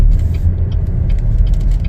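A 2022 Chevy Traverse RS driving on the road, heard as a steady low engine and road rumble from inside the cabin, continuous and fairly loud, with faint clicks above it and no talk.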